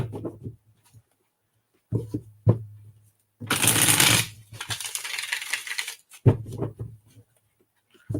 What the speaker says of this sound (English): Shuffle a couple more times here.